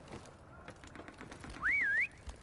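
Brief rising-and-falling whistle in the Call of Duty Remastered video game, sharp and clear for about half a second over a low murmur of game ambience.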